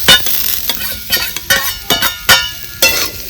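Roasted field beans are stir-fried in a masala of chutney and salt, with loud, close spatula scrapes in quick irregular strokes over a sizzling pan.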